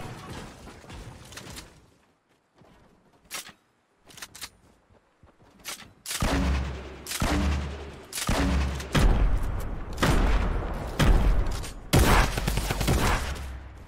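Tommy gun fire in Fortnite Season 9: loud, rapid automatic bursts repeat close by over the second half, after a quieter stretch of scattered game clicks and shots.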